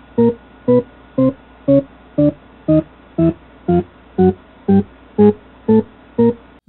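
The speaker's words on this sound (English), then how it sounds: "This is a Shepard scale" Discrete Shepard scale auditory illusion: a steady series of about fourteen evenly spaced synthetic tones, each a stack of octave-spaced partials, stepping endlessly in pitch, loud and alone with no voices.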